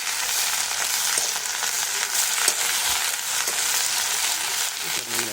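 Green beans frying in a pan while being stirred, a dense, even sizzle and crackle throughout with scattered light scrapes of the spoon, close up and without talk.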